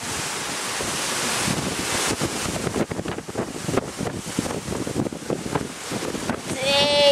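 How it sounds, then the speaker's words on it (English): Strong gusty wind buffets an outdoor microphone with loud roaring rushes and rumbling bursts that rise and fall throughout, briefly joined by a faint whistling tone at the end. "How bad the wind's blowing."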